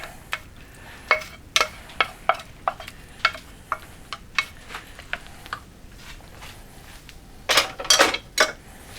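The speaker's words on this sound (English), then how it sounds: "we're going to add this beef mixture right into this casserole dish" Beef mixture going into a casserole dish: a string of sharp, fairly close scraping and clinking knocks from a utensil against the dish, irregular and separated by short gaps, with a louder clustered burst of scrapes near the end.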